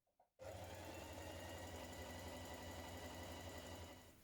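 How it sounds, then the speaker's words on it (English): A sewing machine stitches a t-shirt sleeve seam, starting abruptly after a brief click and running in a steady, fast, even whir close up until it slows at the end, with no talking. "Now sew the seam of your sleeves together."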